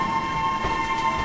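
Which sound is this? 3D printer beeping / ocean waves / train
train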